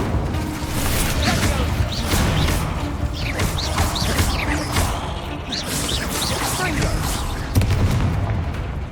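Spell effects from Hogwarts Legacy crackle and boom repeatedly as the Incendio fire spell is cast, bursts and whooshes layered over a busy game soundscape with brief chirping sounds.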